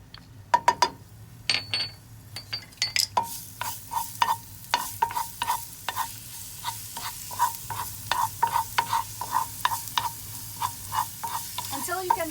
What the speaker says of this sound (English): we're going to add in our garlic, and we're going to saute that for a little bit